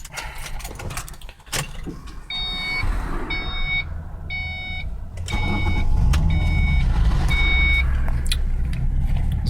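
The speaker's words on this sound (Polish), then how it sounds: "zapaliłem samochód." A Ford Mustang with a 4.0-litre V6 fitted with an HHO hydrogen generator starts up, then settles into a steady idle, with an electronic chime beeping in regular bursts over the engine.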